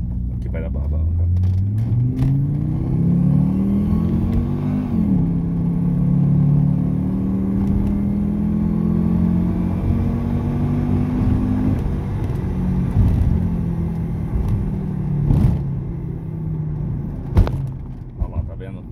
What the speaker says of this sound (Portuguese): quando você enfia o pé, o carro vai que vai mesmo